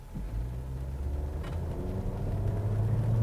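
A 2022 Honda Civic V Turbo, 11th generation, accelerates in sport mode, heard from inside the cabin as a low, steady engine drone that slowly builds in pitch and loudness.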